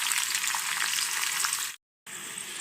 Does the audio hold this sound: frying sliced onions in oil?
yes